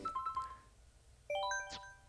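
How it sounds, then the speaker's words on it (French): A short melodic ringtone of bright, chiming notes plays during a Mario Kart 8 Deluxe live stream, a few tinkling tones at first, then a quick rising cascade of chimes, fairly quiet. "C'est pas ton téléphone, j'espère."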